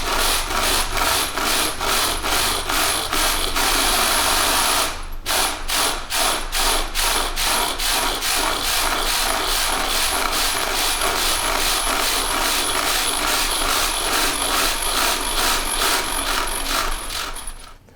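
B-Z-Bowls, an Arduino-driven acoustic white noise machine of several bowls, reset so they start together: dense hissing pulses beat in a fast rhythm, break briefly, then restart and drift gradually out of phase, loud and continuous.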